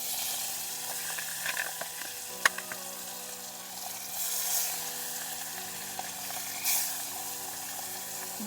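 Salted pieces of katla fish fry in hot oil, giving a steady close sizzle with a few sharp clicks and clatters of handling over a faint background tone.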